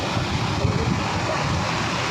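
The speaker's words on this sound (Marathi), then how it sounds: "एवढा खतरनाक वारा आहे" Strong, steady wind roars and buffets the microphone at a seashore in heavy rain, with a broad rushing noise like surf beneath it, loud and continuous throughout.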